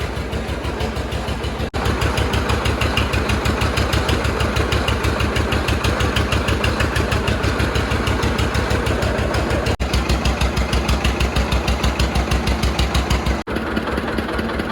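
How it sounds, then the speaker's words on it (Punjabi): A small engine mounted at the back of a homemade cart used for making vermicelli chugs steadily nearby with a rapid, even knocking rhythm, loud and continuous with a couple of brief dips. "ਆ ਇੰਜਨ ਪਿਛਲੇ ਪਾਸੇ ਹੈਗਾ"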